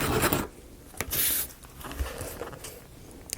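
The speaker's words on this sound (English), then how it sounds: "And I'll sand this down." Sandpaper rasping back and forth over a wooden marble run dragon piece, close and steady with a few louder scrubbing strokes and no talking.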